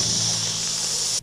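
A steady, loud pepper spray hiss runs continuously for about a second, then cuts off abruptly, in an animated cartoon.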